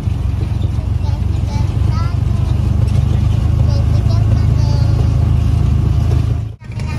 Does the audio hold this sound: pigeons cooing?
no